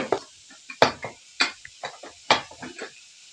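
Metal lid and cookware clatter as a pressure cooker is opened over a flame in a home kitchen, several sharp clanks and knocks spaced irregularly, close and fairly loud.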